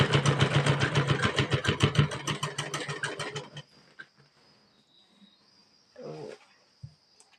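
A sewing machine runs a straight stitch along a Patiala salwar seam, a fast, even, close-up mechanical rhythm lasting a few seconds before it stops, leaving faint handling noises and a soft knock.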